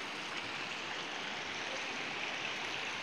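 Water flowing into a small outdoor pool for children, a faint, steady broadband rush with no distinct splashes, continuous throughout.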